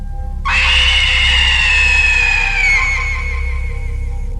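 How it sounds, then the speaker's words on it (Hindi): A terrible, piercing scream, like a tormented creature shrieking in agony, bursts in suddenly and holds loud and shrill for several seconds before slowly fading, with no talk over it. "अचानक से मैंने एक भयानक चीख की आवाज़ सुनी।"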